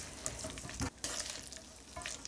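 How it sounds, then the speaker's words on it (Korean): Green garlic stalks and dried shredded squid get tossed and mixed in gochujang seasoning off the heat, producing close, moist rustling and sticky scraping with a few louder clacks, no talking. "이것도 이렇게 잘 섞어주시면 됩니다."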